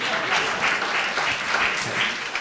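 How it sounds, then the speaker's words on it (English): An audience at a JB Pritzker speech breaks into applause, a dense burst of clapping that swells and pulses for a couple of seconds, fairly close and without speech. "I saw who clapped first"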